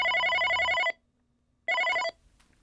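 A telephone bell rings in two trilling bursts separated by a short silence, clear and close, with nothing else sounding.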